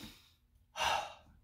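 After an exercise set, a short pause of near silence breaks into one strong, breathy exhale, like a heavy sigh of someone catching their breath, close and fairly loud.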